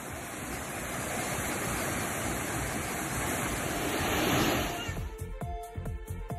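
Steady, loud roar of a waterfall at a tourist site, dense rushing water filling the scene for several seconds before it gives way to a clattering, choppier sound near the end.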